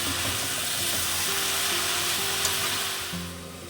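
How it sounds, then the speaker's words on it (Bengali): Rajma with added greens sizzles and fries steadily in a pan while being stirred on a home kitchen stove, a constant close hiss with occasional scraping. "এবার হচ্ছে আমি নাড়াচাড়া করবো"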